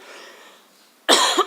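A single sharp cough bursts out loud and close after a stretch of near silence, followed by a second quick cough-like burst, from a preacher suffering weeks of coughing during a church talk.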